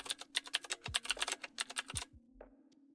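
Rapid keystrokes clatter on a computer keyboard in a quick, uneven run for over two seconds, close and clear, ending with a couple of isolated taps and a steady faint hum underneath.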